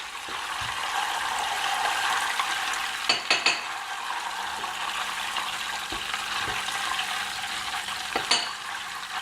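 Butter simmers and boils in a pot while making ghee, a steady bubbling hiss broken by a few clattering utensil knocks and scrapes.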